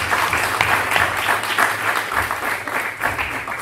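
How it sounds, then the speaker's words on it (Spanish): An audience at a memory, truth and justice conference gives steady, dense applause, many hands clapping at a fairly loud level throughout the short stretch. "les pido otro aplauso para Raúl Nor."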